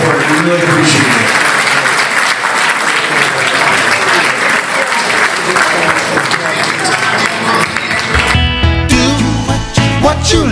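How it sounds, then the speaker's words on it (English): Sustained applause from a gala audience fills the room, loud and continuous, then gives way to someone speaking over music near the end. "give a huge round of applause to the Coopermans, to John Belzer,"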